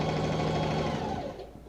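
A sewing machine stitches a kimono seam in a steady, fast continuous whir at close range, slowing and winding down near the end, with no talking.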